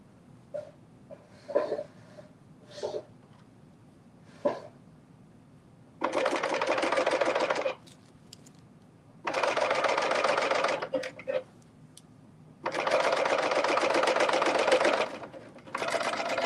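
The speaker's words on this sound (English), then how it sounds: "give me 1 second while I serge this top part." A serger overlocks the top part of a sewn garment in three loud, steady bursts of rapid mechanical whirring, separated by quiet gaps with soft handling noises and brief clicks.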